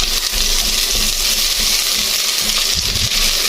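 Onions sautéing in a hot pan for chicken sotanghon, a steady, close frying sizzle with faint stirring scrapes running throughout, no voices.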